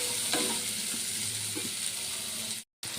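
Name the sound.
onion pieces frying in oil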